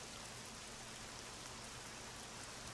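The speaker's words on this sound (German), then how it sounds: "und natürlich regnet es in einer Tour" Steady rain falls in the fantasy role-playing game Nehrim, a faint, even hiss of countless drops that stays constant from start to finish, with no other sounds or voices.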